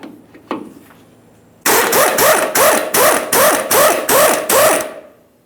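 A power tool loosens an 18mm sway bar link mounting nut on a 2015-2020 Ford F-150, sounding as a loud whirring start followed by eight or so rapid, rhythmic hammering bursts close by, ending abruptly.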